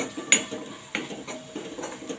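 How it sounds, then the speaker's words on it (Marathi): Half a spoon of turmeric and a little chicken masala sautéed with onions in a pan, giving soft sizzling under a few light spoon clinks and scrapes against the metal, close and quiet. "आता हे सगळे मसाले आपण परतून घेऊया त्याच्यामध्ये।"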